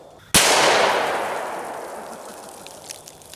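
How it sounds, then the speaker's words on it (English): A single sharp, loud pistol shot from a Glock Gen 4 model 31 firing a 125 grain full metal jacket 357 SIG round into a 380 lb Atlas stone outdoors, with a long decaying echo afterward. "now let's hit it with a pistol round that's moving really fast"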